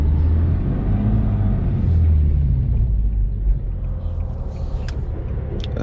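Deep, steady exhaust rumble from an Infiniti G37 with exhaust cutouts, a continuous low drone heard from inside the car while driving, with slight swells and no speech.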